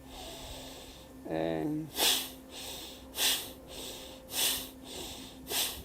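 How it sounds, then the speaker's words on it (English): Deep, forceful breaths in a breathwork exercise come in a steady rhythm of about five strong rushing exhales or inhales, like a pump. A brief spoken word comes before them. "We're going to do 25 breaths. Take a deep breath in."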